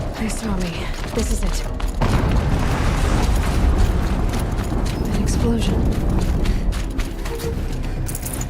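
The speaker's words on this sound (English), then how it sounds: "An explosion." A sudden booming explosion in the video game Horizon Zero Dawn erupts early and rolls into a sustained, dense rumble, loud and close, mixed with clattering combat noise and a steady game soundtrack.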